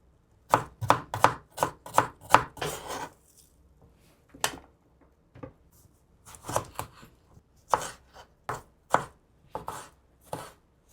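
Knife chopping onion on a cutting board for an okra curry: quick bursts of sharp, rhythmic chops close by, pausing between rounds, with no talking.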